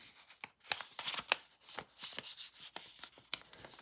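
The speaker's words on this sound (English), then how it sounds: "I'm just going to fold it." Paper page being folded by hand for a handmade junk journal, heard as a quick series of close, soft crisp rustles and creases in an otherwise quiet room, with no talking.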